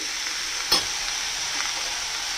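Steady sizzle of green tomato and drumstick sabzi frying in a pan with a little oil, with one brief scrape of stirring, close and continuous.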